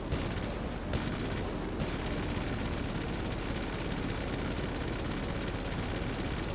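Sustained dense gunfire in GTA V Online aimed at a flying enemy, a loud continuous barrage of rapid shots blending with aircraft engine roar, no speech.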